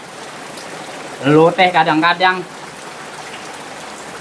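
Steady rain falls throughout as a constant hiss, with a person speaking briefly over it in the middle.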